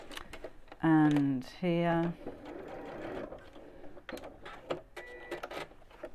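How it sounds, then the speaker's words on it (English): A sewing machine runs two short bursts of tacking stitches through the seam allowance of a simple messenger bag, each a steady mechanical whir lasting about half a second, with someone talking before and after. "what I am going to do is just to put a few tacking stitches just to stop that flopping around as I'm sewing it"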